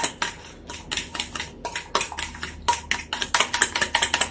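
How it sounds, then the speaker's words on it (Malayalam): Fast, uneven tapping and clinking of a utensil against a bowl as aloe vera gel and potato are beaten together, a steady close rattle of hits with no talk. "ജെല്ലും ഉരുളക്കിഴങ്ങും നല്ല അടിച്ചെടുക്കുക."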